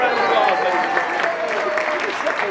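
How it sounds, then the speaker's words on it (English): Audience applause rings out for an Honorary Duckmaster at The Peabody Hotel, a dense, steady wash of clapping from a crowd, fairly loud and continuous with voices mixed in. "Let's give him one more round of applause, ladies and gentlemen."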